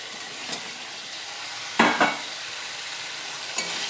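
Fried gugli snails are stirred into a papaya dish in a sizzling pan, a constant frying hiss punctuated by a few sharp utensil scrapes and knocks, close and clear with no talking.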